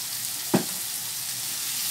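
Chopped tomatoes with salt sauté in a pan, a soft, even sizzle running throughout, broken once by a single dull knock early on.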